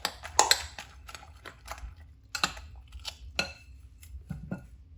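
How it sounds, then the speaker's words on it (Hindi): Spoon clinking and scraping against a bowl while whisking eggs, a series of short, irregular taps and clicks close by with quiet pauses between them. "ज़रा इनको अच्छी तरह मिक्स कर लें।"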